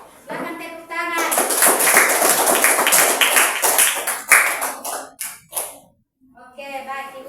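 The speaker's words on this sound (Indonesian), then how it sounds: "Oke, silakan tepuk tangan." Dense applause and clapping from a school class fills most of the stretch, fading into scattered claps, with a voice speaking near the start and end.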